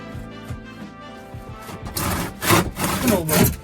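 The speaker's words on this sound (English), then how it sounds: "use the handsaw to finish it off" Handsaw finishing a cut through a desk during a police van conversion: rough, rhythmic rasping strokes that grow louder and denser toward the end, close by with no talking.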